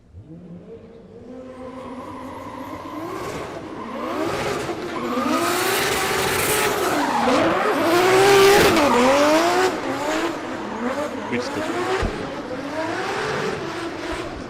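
A Watson Haulage S13 drift car runs at D1NZ drifting championship qualifying at Baypark Stadium, Tauranga. Its engine revs hard and rises in pitch over sustained tire squeal, building to a loud, close peak before holding steady.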